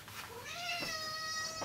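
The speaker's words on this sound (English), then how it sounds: "that's my cat" A house cat lets out one drawn-out, rising meow nearby, fairly faint against quiet room tone.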